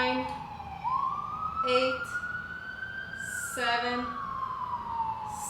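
Emergency vehicle sirens wail outside through an open door, a rising and falling tone drifting in from the street while a voice counts aloud nearby.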